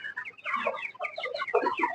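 Chickens on a poultry farm cluck and murmur close by in a busy, overlapping chatter of short calls, fairly quiet overall.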